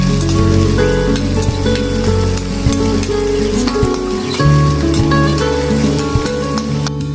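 Chopped onion frying in hot mustard oil with cinnamon, cardamom, cloves and black pepper in a kadai: a loud, steady, dense sizzle throughout, layered over a constant tonal background hum.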